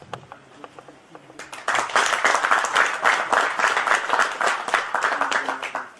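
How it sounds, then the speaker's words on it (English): Loud, sustained applause from an audience at a formal academic alumni meeting with a NAAC peer team, rising abruptly after quieter scattered claps and continuing as dense clapping to the end. "A big round of applause."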